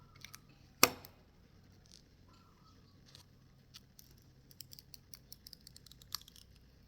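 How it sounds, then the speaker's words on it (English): Aged, brittle adhesive film peels off the LCD screen of a DK crosstrainer. One sharp tearing snap comes first, then faint, scattered ticks and crackles follow close by in a quiet room. "And we're peeling off the film, hopefully taking most of the adhesive with it."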